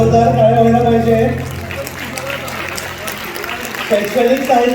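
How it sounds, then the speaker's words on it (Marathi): An audience at a district-level science exhibition prize-giving ceremony breaks into a burst of steady clapping after a voice over a public address system, with the speaking returning near the end. "जोरदार टाळ्या व्हायला पाहिजे."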